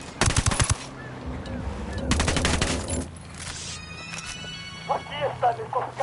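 Rapid automatic gunfire from a tactical shooter video game, with two loud bursts of fast repeated shots, then lighter scattered impacts and clatter toward the end.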